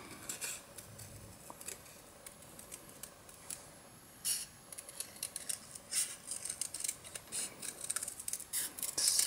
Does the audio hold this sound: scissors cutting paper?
yes